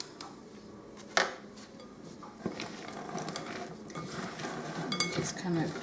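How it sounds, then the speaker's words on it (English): A spoon stirs nuts and fruit into a thick, gloopy egg paste in a bowl. Repeated scraping and clinking against the bowl are close and build steadily, with one sharp knock early on. "And just kind of stir to combine."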